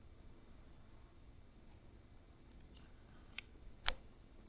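A few faint, sharp mouse clicks on a software installer dialog, spaced irregularly over a quiet background hiss.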